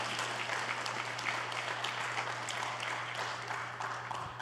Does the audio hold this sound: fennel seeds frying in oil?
no